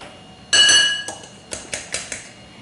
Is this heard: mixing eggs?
yes